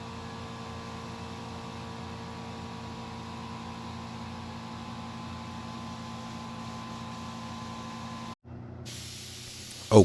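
LVLP paint spray gun laying down base coat at 30 PSI, fed by a small air compressor, a steady continuous hiss with an underlying hum, briefly cutting off near the end before resuming.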